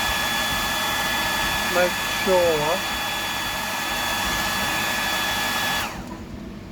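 A hair dryer blowing on a freshly painted fishing lure, a steady loud whooshing hum that runs throughout and cuts out near the end, with a brief spoken remark partway through.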